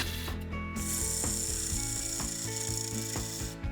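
A bowl gouge on a wood lathe cuts away waste from a turning bowl, giving a continuous loud rough rasping chatter with a steady rhythmic pulse from the spinning blank.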